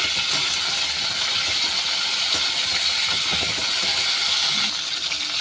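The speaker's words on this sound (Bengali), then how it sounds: "দেখুন ফুলকপিটা একটু আমি লালচে করে ভেজে নিচ্ছি।" Cauliflower frying in hot oil seasoned with panch phoron, a steady dense sizzle that holds at an even level throughout, with faint scattered pops and clinks.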